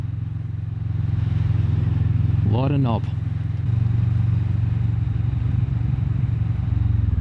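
Kawasaki Vulcan S motorcycle engine droning steadily while riding, loud and close with wind rumble, a brief rising rev in the middle and someone speaking over it.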